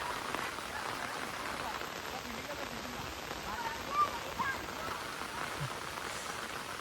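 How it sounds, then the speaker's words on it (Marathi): Steady rain falls over a village in the evening monsoon, a constant hiss of drops on surfaces that stays even throughout, with a faint distant voice or two under it. "पाऊस थोडा कमी झाला आहे"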